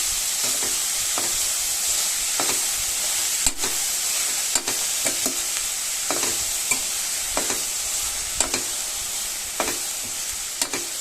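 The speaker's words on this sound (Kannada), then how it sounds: "ಎಣ್ಣೆ ಜೊತೆಗೆ ಅಥವಾ ತುಪ್ಪದ ಜೊತೆಗೆ ಸ್ವಲ್ಪ ಚೆನ್ನಾಗಿ ಇದನ್ನು ಫ್ರೈ ಮಾಡ್ಕೊಳ್ಳೋಣ." Vegetables fry in oil or ghee for momo filling, giving a steady hissing sizzle with repeated sharp scrapes and taps of a spoon stirring the pan.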